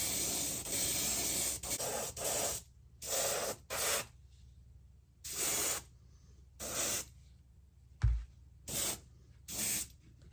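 Airbrush spraying paint onto a black tie-dye model horse, feathering purple into blue: repeated bursts of airy hiss lasting about half a second to a second, separated by short pauses, close and steady, with no talking.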